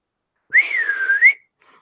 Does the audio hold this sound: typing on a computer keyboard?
no